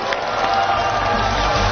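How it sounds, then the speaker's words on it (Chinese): A studio audience at a Chinese television variety show claps and murmurs in a steady, moderately loud wash of applause that continues evenly to the end. "让我们再次把掌声送给今晚来到我们红沙发上的每一位嘉宾"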